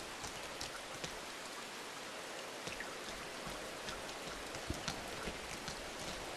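Steady rain patters on surfaces in the video game Rain, a constant dense hiss with scattered sharper drip ticks, heard alone at a soft, even level throughout.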